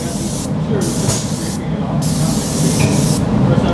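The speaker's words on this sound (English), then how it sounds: "Squeeze the trigger and begin spraying." Loud, steady hiss of a spray gun spraying onto a vehicle, continuous with brief interruptions as the trigger is released and squeezed again.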